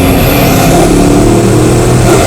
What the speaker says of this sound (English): Accelerating then braking, accelerating and braking.